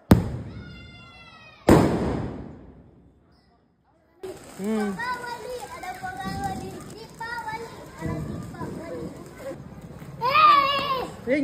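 A 30-shot Deepavali firework cake bursts in sharp cracks and bangs, starting with a few loud pops and then a rapid string of shots, while children chatter and shout throughout.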